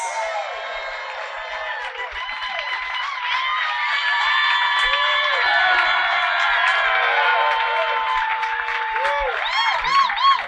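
A concert crowd greets a performer's entrance in Detroit with sustained applause, cheering and whoops, loud and dense throughout, with high whistles near the end.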